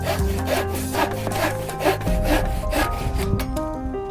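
A Japanese kataba pull saw works through wood in steady back-and-forth strokes, each rasping stroke loud and close, about two per second, with a brief pause near the middle and no speech.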